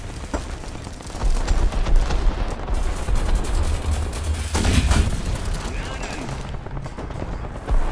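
A Leopard 1 tank fires cannon shells in a video game battle, with heavy booming shots and rumbling explosions over continuous noisy combat.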